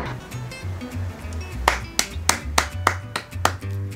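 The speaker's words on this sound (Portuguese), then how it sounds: "Palmas." Several sharp hand claps ring out one after another in the second half, loud and close over a low, steady background hum in a home setting.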